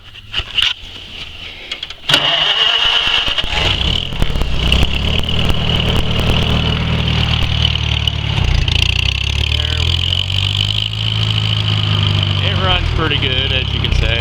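A 1945 Farmall H tractor engine cranks briefly, catches after about two seconds and settles into a loud, steady running drone close by, with slight shifts in its note toward the end.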